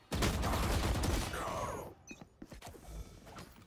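Rapid automatic rifle fire in the tactical shooter Valorant, a loud dense burst lasting under two seconds, followed by a few scattered single shots and mechanical clicks.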